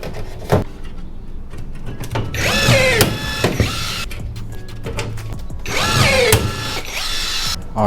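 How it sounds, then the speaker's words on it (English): Rivets are set into a metal deck panel on a jon boat with a power tool, giving repeated short buzzing bursts, loud and near, with clicks and clanks between them. "that is now all riveted together"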